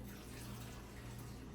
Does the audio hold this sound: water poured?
yes